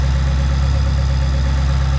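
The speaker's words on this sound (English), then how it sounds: "You do hear that revving sound that is legendary for Ferraris." A 2022 Ferrari Roma engine idles steadily and loudly with a deep, even rumble, heard close up from the engine bay with no talking.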